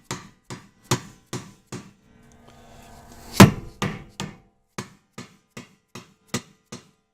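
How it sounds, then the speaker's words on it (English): A rubber hammer taps an aluminum part down into a Cleveland kettle trunnion joint, about fifteen sharp, evenly spaced knocks close up, with one heavier thud and a brief scrape in the middle. "Get a rubber hammer or something just to tap to help it go down."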